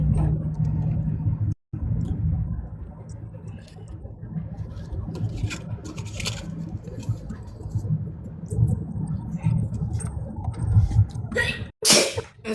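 A single sharp sneeze bursts out near the end, close and loud, over a steady low rumble of background noise during a live stream.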